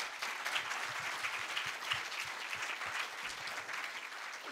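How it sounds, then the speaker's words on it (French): Warm applause for the evening's speakers at a conference, a steady patter of many hands clapping at moderate distance, quiet overall and continuous throughout. "je vous demande d'applaudir chaleureusement nos conférenciers de ce soir."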